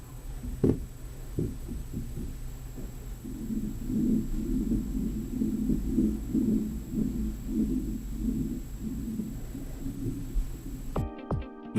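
Impact noise from the apartment upstairs, heard from the unit below: a few muffled knocks, then a long stretch of faint, low, pulsing thuds and rumble, with a brief electronic tone cutting in at the end.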